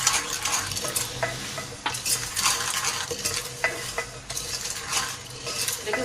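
Semolina dry-roasting in a pan for sooji katli halwa, stirred continuously with a spoon: steady scraping and gritty rustling with light clinks against the metal, close and even throughout, with no talking.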